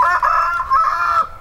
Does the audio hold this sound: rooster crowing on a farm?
yes